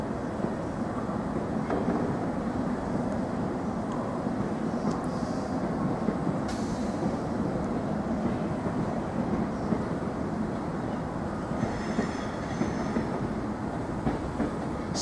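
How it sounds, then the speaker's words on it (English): Train pulling out of Norwich station on the 15:30 service to London Liverpool Street: a steady, loud rumble of rolling stock with faint wheel clatter, continuing without a break and no speech. "we've now got the 1530 service to London Liverpool Street, now setting off."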